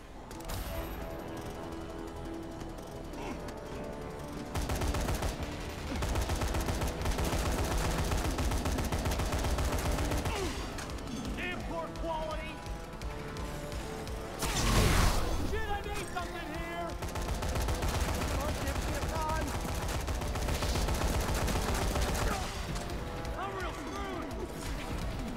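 Gunfire in the co-op game Dead Rising 3 on a city street: scattered shots and short bursts, moderately loud, mixed in with game sounds and heard under people talking for much of the time.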